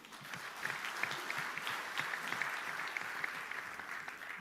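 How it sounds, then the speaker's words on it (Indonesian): Audience applause at a PSI party congress in Solo, a steady wash of many hands clapping heard from some distance, fairly faint and continuous throughout. "Tepuk tangan dulu."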